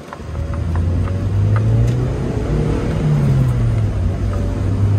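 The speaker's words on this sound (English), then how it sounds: "All right, test drive. 2006 Mazda Miata." A 2006 Mazda Miata with a 6-speed manual and about 104,000 miles drones steadily on a test drive, a loud low engine hum with slow pitch rises and falls as it pulls along, no voices.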